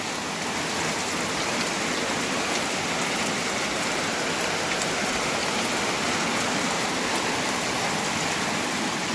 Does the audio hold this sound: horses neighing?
no